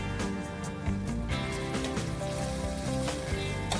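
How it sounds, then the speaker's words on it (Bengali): Water poured into a pan of frying potatoes and spice masala sets off loud, continuous sizzling and bubbling, with music playing underneath. "এবার আমি জলটাও দিয়ে দিলাম।"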